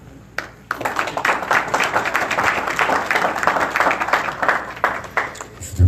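Audience applause at a Haitian American press conference in West Palm, a sustained burst of clapping from a small crowd lasting several seconds, fairly close and steady.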